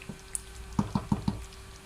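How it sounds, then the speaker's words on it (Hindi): Thick carrot gajrela cooking in a pot, with a few soft bubbles popping in a quick run of four plops, close and faint over a quiet background. "जो जो ये गाढ़ा होगा ये बबल जो हैं उतना ही ज़्यादा होंगे"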